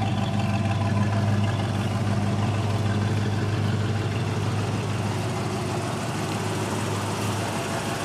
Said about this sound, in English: That's the factory exhaust. It doesn't smoke. It doesn't tap or knock.